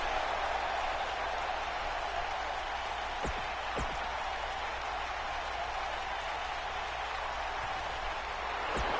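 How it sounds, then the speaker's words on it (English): An arena crowd in the WWE 2K19 wrestling video game, heard as a steady, dense wash of cheering and applause with a few sharp clicks. "The crowd is buzzing."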